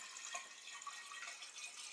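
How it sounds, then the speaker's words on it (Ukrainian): Purified water poured into glass jars for rosehip wine, a faint, continuous trickling and splashing with small gurgles, heard close and alone. "Ну, ось я наливаю воду в банки."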